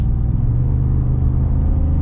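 Ford F-150 RMT off-road truck with a 5.0 V8 rumbling steadily at close range, a deep, continuous low-pitched engine drone holding even throughout with no talk over it.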